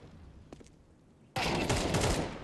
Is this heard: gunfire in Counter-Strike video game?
yes